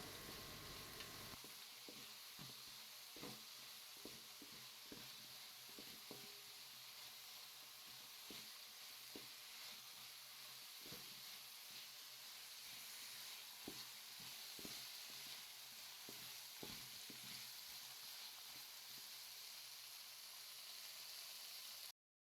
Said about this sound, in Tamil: ஒரு ரெண்டு மூணு நிமிஷம் அப்படியே வந்து எண்ணெயில் நல்லா வதக்க விட்டுறலாம்